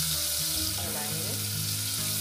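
Dal fry sizzles and crackles in a pan while being stirred until browned, a steady close frying hiss with faint stirring scrapes throughout.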